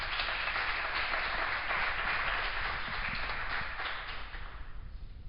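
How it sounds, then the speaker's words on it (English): Sustained applause from a conference audience at APIdays Mediterranean, a tech event on APIs, steady and dense before thinning slightly toward the end, with no voices over it. "We can applause Ori."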